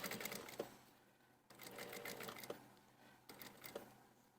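A sewing machine runs a gathering stitch on fabric, motor whirring in three bursts with short pauses between them, close and steady.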